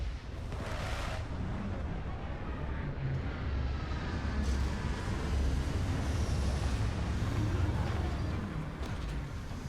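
Spaceship landing thrusters fire in Starfield as a loud, continuous deep roar with rumbling blasts and a hissing upper layer, steady for nearly ten seconds, with no talking over it.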